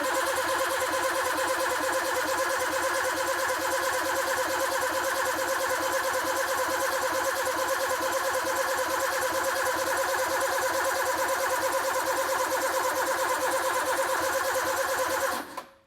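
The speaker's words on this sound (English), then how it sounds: "The first cranking ever of this engine since a full rebuild." A starter motor cranking a freshly rebuilt Suzuki van engine steadily for a long stretch without it catching, no oil pressure yet, a continuous whirring drone that cuts off at the end.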